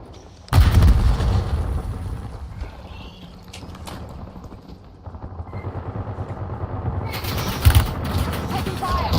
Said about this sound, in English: Oi, enemy grenade.